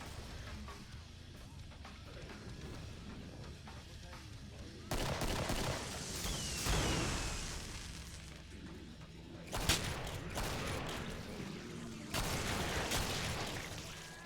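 Repeated gunfire against zombies in the co-op shooter Killing Floor, several loud bursts and volleys rising above a steady background rumble, no talking in between.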